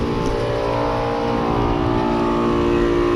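A loud 2008 Carrier Performance heat pump runs with a constant heavy mechanical drone and tonal hum, steady and close throughout, with no speech.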